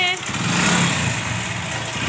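A motorcycle engine idles steadily at close range, a continuous low rumble with no revving, as a family sets out on a grocery run.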